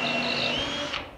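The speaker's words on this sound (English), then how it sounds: "All right, we'll pre-drill to keep from cracking." A power drill pre-drills into a wooden handrail, a steady high whirring buzz for about a second that cuts off at the end, close and alone.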